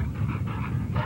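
Tonka, a stud dog at a kennel yard, gives short whimpering and panting sounds in quick bursts, close by and fairly loud.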